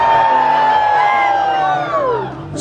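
A crowd at the Polynesian Cultural Center water show screams and whoops together in one long, loud, sustained burst that slowly fades toward the end.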